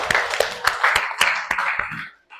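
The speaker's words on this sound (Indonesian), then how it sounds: "Oke, tepuk tangan untuk Husnul." A classroom claps for a student: a short burst of about eight close, crisp hand claps in an even rhythm, fading out after two seconds.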